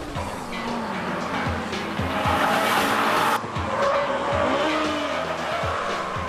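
A Honda Civic Type R races around a track, its high-revving VTEC engine climbing through repeated gear changes with short pauses between shifts, loud and close, with tyres squealing.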